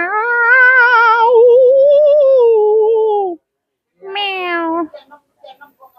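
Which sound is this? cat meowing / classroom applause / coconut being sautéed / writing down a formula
cat meowing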